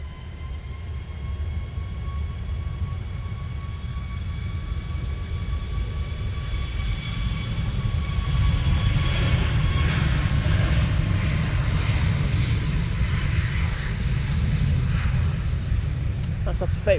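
Loud, sustained roar of a Ryanair jet airliner taking off at Manchester Airport in wet, windy weather, a broad rumble holding steady and swelling slightly over the clip, with a voice talking over it.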